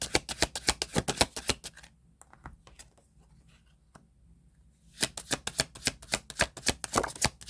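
Tarot cards being shuffled and drawn, bursts of rapid close riffling clicks at the start and end with a quieter stretch of soft card handling and shuffling in between.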